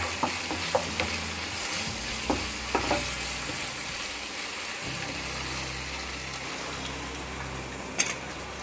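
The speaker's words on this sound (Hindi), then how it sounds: "ये मैं 2 चम्मच के करीब टमाटो केचप डाल रही हूँ।" Tomatoes and about two spoonfuls of tomato ketchup sizzle steadily in a frying pan for bread upma, while a spoon stirs through them with soft scrapes and occasional light taps against the pan.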